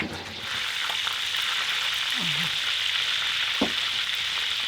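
Oil in a pan sizzles and crackles steadily at close range as food fries, with a few sharp spatter pops and a faint clink partway through.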